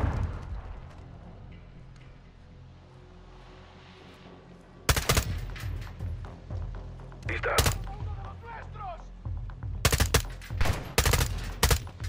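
Automatic gunfire aimed at a helicopter in Call of Duty: Modern Warfare 2, starting after a quiet stretch of low game ambience with sharp full-band bursts in two clusters, close and loud, alongside scattered voices.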